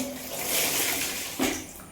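Water pours and splashes steadily for a couple of seconds, fairly faint and close, with a brief sharper splash near the end.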